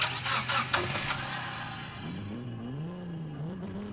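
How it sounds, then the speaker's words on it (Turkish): A Nissan 350Z engine starts up in the racing game Forza Horizon 5: a loud cranking burst with sharp pulses, then it settles into a lumpy, wavering idle that rises and dips unevenly. "Hemen bir gaz verelim bakalım. Çalıştıralım arabamızı."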